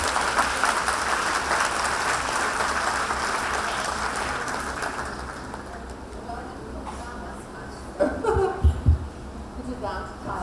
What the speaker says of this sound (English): Please join me in welcoming once again Baiba with a loud round of applause.